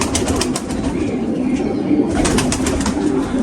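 Surkha-breed pigeons coo softly and repeatedly nearby, with a brief flutter of wings among the rhythmic, throaty calls.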